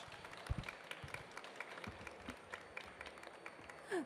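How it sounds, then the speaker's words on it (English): Scattered applause from a modest conference audience for a panel, light overlapping claps at a moderate distance, quiet and steady, with a soft thump near the end. "Please give great round of applause to those great panelists."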